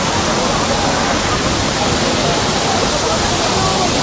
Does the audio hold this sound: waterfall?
yes